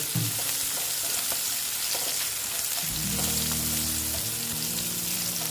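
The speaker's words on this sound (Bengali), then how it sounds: "পেঁয়াজগুলো ভালো মতন ভেজে নিচ্ছি ব্রাউন কালার করে ভেজে নেব" Sliced onions frying in hot oil in a pan, a steady close sizzle running throughout with occasional low scraping and stirring knocks, no voices.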